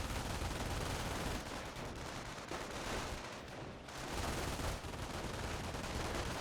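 Dense, sustained gunfire from a Company of Heroes battle between rifle and Volksgrenadier squads, with overlapping rifle and machine-gun bursts filling the whole stretch, loud and continuous with no talking.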